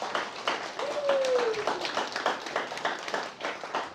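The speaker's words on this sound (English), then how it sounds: "let's all give a round of applause for making it here tonight" Scattered clapping from a small gathering at a 21st birthday celebration, fairly steady and moderate, with voices chattering underneath and a brief whistle-like tone partway through.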